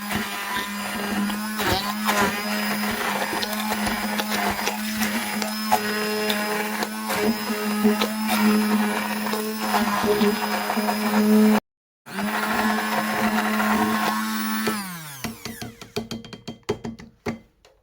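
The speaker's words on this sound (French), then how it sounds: "je vais mixer le tout pour obtenir une pâte" A blender whirs steadily as it purees rice porridge with chopped banana into a smooth paste for millet and rice gnonmi fritters. The loud, even motor drone runs continuously, cuts out briefly, resumes, then winds down near the end.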